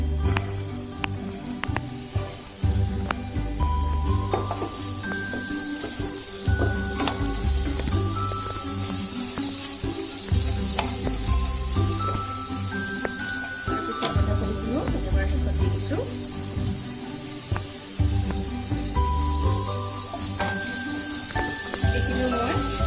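Carrots and onions sizzle steadily in hot oil as momo stuffing fries in a pan, a continuous crackling bed with occasional stirring scrapes, close and fairly loud, with brief faint speech.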